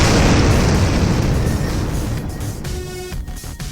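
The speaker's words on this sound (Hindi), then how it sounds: "बटन दबाते ही बम एक जोरदार धमाके के साथ फट जाता है।" A bomb detonated by remote control in a cartoon, a loud deep blast with a long rumbling roar that slowly decays, followed by faint debris and clattering.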